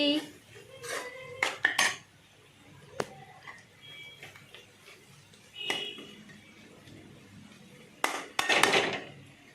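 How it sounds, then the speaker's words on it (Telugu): A utensil stirs masala into a bitter gourd fry in a pan, making several sharp metallic clinks and scrapes in bursts, loud at the start and again near the end, with quieter stirring between. "మసాలా కొంచెం మొత్తం కలిపేసుకోవాలి"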